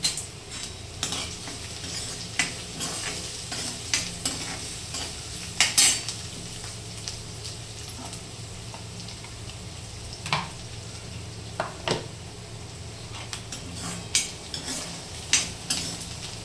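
Onion fries in a pan under a soft, continuous sizzle, while a spoon scrapes and clinks against the metal in irregular stirring strokes throughout.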